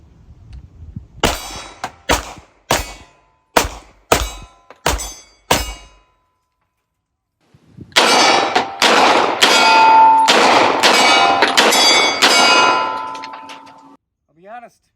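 A Walther PDP 5-inch full-size pistol fires 115-grain rounds: seven sharp, loud shots at a steady pace, a brief silence, then a rapid string of shots with ringing echo fading out.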